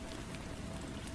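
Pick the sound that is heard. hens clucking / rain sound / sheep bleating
rain sound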